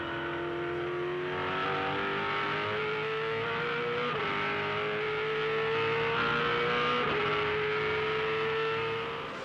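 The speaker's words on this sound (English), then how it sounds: "Pushes through the gears. Will touch 6th gear before backing it right off to turn 7." In-car engine of a 2007 V8 Supercar at Barbagallo Raceway, rising in pitch through each gear with two clear upshifts before backing off for a corner, loud and continuous with no talk.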